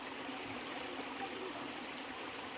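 Continuous rushing of flowing water, a steady broadband hiss at moderate level with no pauses.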